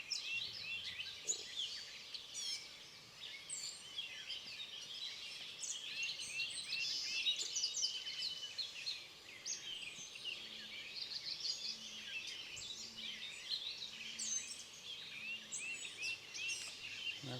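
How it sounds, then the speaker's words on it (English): Many birds sing and chirp in the morning at an outdoor gathering, overlapping high tweets and trills at moderate distance, faint but continuous over a soft background hum. "I don't know if you can hear all the birds"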